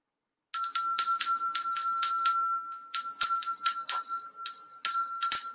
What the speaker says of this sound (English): I ring the bell, he pours the wine.